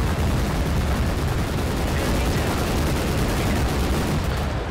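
Relentless gunfire from a massed gun line in Total Conflict: Resistance, rapid overlapping shots and bursts forming a loud, continuous roar of combat with no pause.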